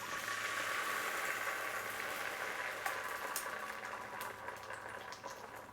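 JUST Egg cooks in vegetable oil in a pan under a closed lid, giving a steady, faint sizzle and bubbling hiss with a few soft pops and no talk.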